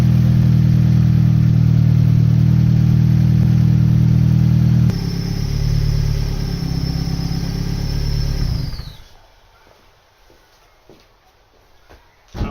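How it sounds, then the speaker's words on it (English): A Mazda MX-5 engine running at fast idle, a loud steady drone that drops to a lower, quieter hum partway through, with a whining tone, before it shuts off and leaves faint clicks. "We'll start the engine up. We've got to run it for 15 minutes at a fast idle"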